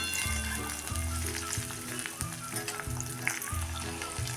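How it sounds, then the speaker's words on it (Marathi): Garlic sizzles softly in a pan over a low flame, a faint continuous frying hiss under quiet background music. "लो फ्लेमवर हा लसूण आपण अजिबात कलर न बदलू देता असाच एक थोडा वेळ परतून घ्यायचा आहे"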